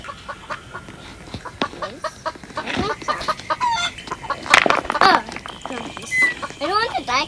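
Chicken clucks and squawks from a Roblox video game come in rapid, loud bursts, mixed with other game sounds and what may be a voice.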